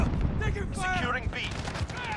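Gunfire in Call of Duty: Modern Warfare, dense overlapping shots and bursts from a domination match, loud and continuous, with in-game voice callouts mixed through the battle noise.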